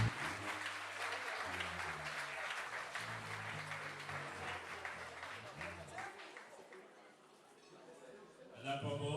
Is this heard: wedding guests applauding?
yes